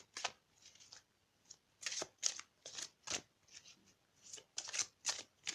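Tarot cards being shuffled and drawn, a run of soft papery riffles and slides in short bursts with brief pauses between them, close and quiet, with no talking.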